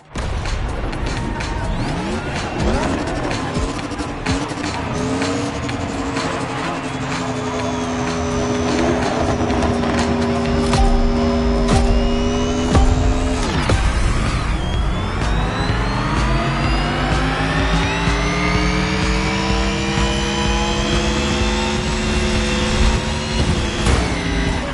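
Race car engine in The Crew Motorfest, a loud steady roar with rising revs and shifting gears throughout, pitch sweeping upward after a brief dip mid-way, with music or other game sounds layered underneath.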